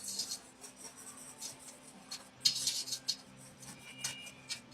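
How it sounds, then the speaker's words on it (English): A spatula stirs canned apple pie filling in a baking dish for an apple caramel pecan dump cake, making soft, close scraping and clinking strokes that come in irregular bursts, with no talking. "Let me have my spatula. Let me stir this again."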